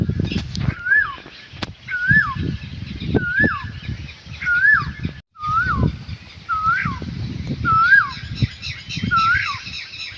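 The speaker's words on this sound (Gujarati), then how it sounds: "અત્યારે કોયલ બોલે છે, તો તમે કોયલનો અવાજ સાંભળો." An Asian koel calls repeatedly from a mango tree, clear rising whistled notes recurring about once a second, with other birds chirping faintly and low rustling and thumps nearby.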